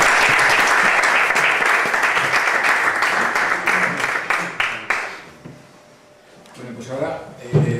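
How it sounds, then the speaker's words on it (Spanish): Audience applause after a conference talk: sustained clapping from a seated crowd that thins into a few scattered claps, dies away to near silence, then murmuring voices pick up. "Se puede aplaudir."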